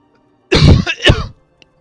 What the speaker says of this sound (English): It's a stupid noise canceling. Turns coughs into sneezes.